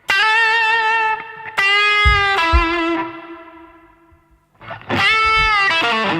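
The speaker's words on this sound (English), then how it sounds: "let me just crank the distortion so I can cover up all my bad notes I'm going to play" An electric guitar with its distortion turned up plays sustained, heavily saturated notes in bursts, with some notes bending and decaying into a short pause before another loud distorted phrase rings out.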